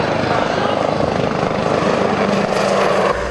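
A Eurocopter EC225 Super Puma air force rescue helicopter gives a loud, steady rotor and turbine drone that stays close and constant throughout, with a voice faintly present.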